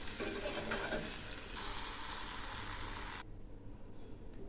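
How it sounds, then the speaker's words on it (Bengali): Fish pulao with ghee stirred in a pan, giving a faint soft sizzle and scraping that drop away near the end. "রান্নাটা থেকে তেল ছিঁড়েছে, এবার নেড়ে চেড়ে নামাবো।"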